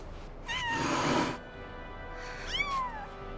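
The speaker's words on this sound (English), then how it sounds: "Kittens?" Kittens meowing in the video game Final Fantasy VII Rebirth: two rising-and-falling meows, one near the start and another near the end, both clear and close over a faint background with no talk.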